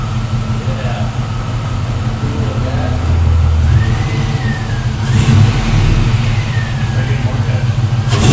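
LS-swapped 1968 Camaro engine running: a loud, steady low rumble that swells as the revs climb, close by, with people talking over it.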